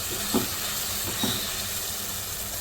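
Onions and spices sautéing in a pan for an egg potato curry made without garlic, ginger or tomatoes, giving a steady close sizzle and hiss with two faint soft knocks of stirring and no talking.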